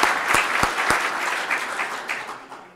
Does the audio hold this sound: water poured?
no